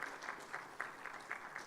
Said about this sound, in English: I think a big round of applause for this gentleman who's sitting there.